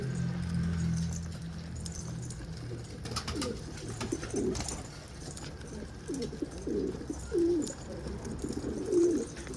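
Wild pigeons cooing in a loft or coop area, a series of soft, low repeated coos in the latter half, fairly close, over a steady background rumble.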